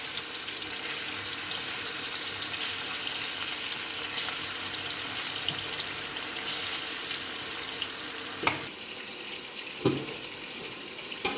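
Fish pieces frying in oil for an Indian fish masala curry, giving a continuous hissing sizzle that holds steady throughout, with a few faint clicks and knocks near the end and no speech.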